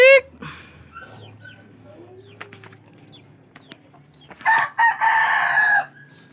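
A White Kelso rooster crows loudly at the start, then hens cluck and chirp softly before another loud burst of crowing near the end.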